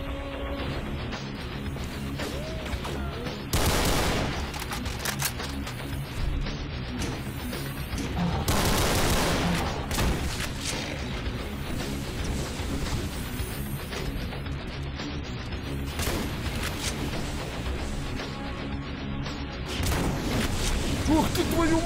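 Gunfire and explosive booms in the Brutal Doom game, set in an underground factory level, come in repeated loud bursts over a dense, rumbling mix of game sounds, with talk heard over parts of it.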